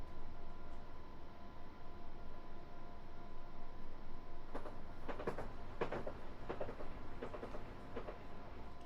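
A train passing by in Train Simulator on the London to Brighton line near Purley: a faint, steady rumble of rolling wagons, then clustered rhythmic clacks and rattles over the rails in the second half, distant and low, with no talk.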